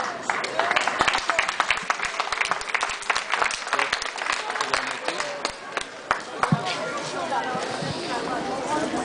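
An audience in France claps at a mayor's event, a spell of dense clapping that starts loud, thins and tapers, with voices mixed in beneath it.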